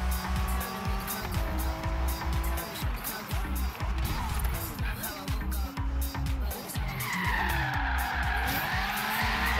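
Tires squealing and skidding as a car drifts through a race in Forza Horizon 3, with a revving engine and shifting screeches layered throughout and a sustained high squeal rising near the end.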